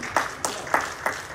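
A church congregation applauds in praise: broadband bursts at an irregular, slightly uneven pace, fairly close and moderately loud, with no talk over it.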